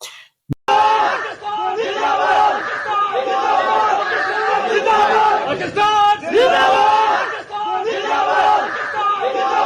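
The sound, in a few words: crowd chanting Pakistan Zindabad slogans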